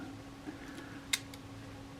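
A Kodak Retina I type 013 camera's leaf shutter fires once during servicing on a workbench, giving a single sharp, quiet click against a faint steady hum, with a softer tick just after.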